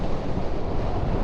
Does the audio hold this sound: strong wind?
yes